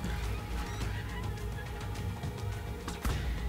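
Ichthyornis, a small seabird in the survival game Ark Survival Evolved, giving repeated honking, goose-like calls over a steady game background, fairly close and loud, with no voices.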